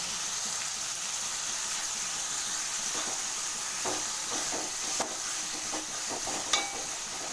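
Onion and tomatoes with salt sauté in a pan for a brinjal curry, a steady close hiss of sizzling broken by occasional soft stirring scrapes and clicks, with no talking.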